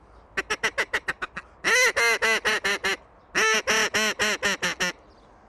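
A handmade duck call whistle blows a short-range call up close: a quick run of about nine short quacks, then two clusters of longer, louder, nasal quacks with brief pauses between them.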